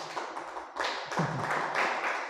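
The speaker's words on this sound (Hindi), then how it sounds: "वैसे तालियों की कोई ज़रूरत नहीं है" A small room of students applauds, steady light clapping from a few nearby people that swells slightly partway through and carries on continuously.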